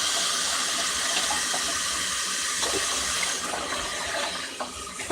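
Water runs steadily from a kitchen tap into a container while breakfast is being made, a continuous close splashing hiss that holds for several seconds before tapering slightly near the end.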